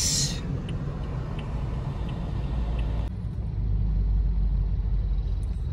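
Inside a four-wheel sedan crawling through traffic on Manila's C6 road, a constant low cabin rumble fills the space, with a short hiss at the start and a slight rise in road noise partway through.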